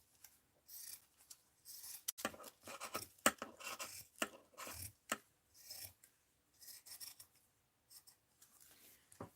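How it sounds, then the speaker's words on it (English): Scissors snip through thick drapery fabric in close, crisp cuts, with brief rasping strokes in quick irregular bursts separated by short pauses. "All right, let's just snip this out of here."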